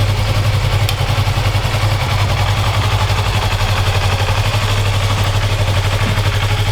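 A motorcycle engine runs steadily close by, a loud, even mechanical rumble with a faint clatter, holding constant for several seconds without revving.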